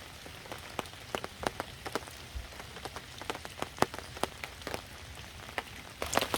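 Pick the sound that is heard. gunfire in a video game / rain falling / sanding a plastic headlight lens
rain falling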